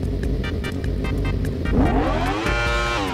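A Yamaha R1 motorcycle engine in the GTA 5 video game revs with a pulsing, throbbing tone, then climbs sharply in pitch and settles into a sustained high whine, loud and close with no talking.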